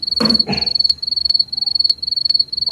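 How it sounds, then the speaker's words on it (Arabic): A field cricket chirps in a steady, close, shrill trill broken by short pulses, with a couple of brief soft noises near the start. "ان انت عارفه صوت صرصار الغيط؟"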